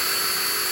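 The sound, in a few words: power drill drilling a hole in a bumper plug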